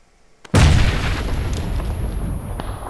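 A single loud, close gunshot in the PUBG video game cracks suddenly after near silence, then rolls into a long fading echo.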